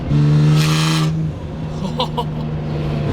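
A Nissan 300ZX with a built twin-turbo engine and its exhaust cutouts open lets out a loud, deep droning rasp that rises sharply for a moment, then settles to a lower steady rumble as it pulls away.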